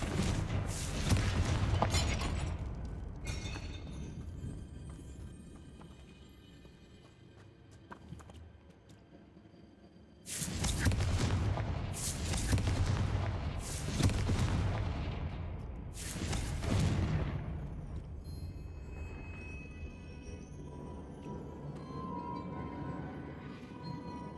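Confringo explosion spells blast in Hogwarts Legacy, a series of deep booming impacts with rumbling decay, some heavy bursts close together, with a lull between groups.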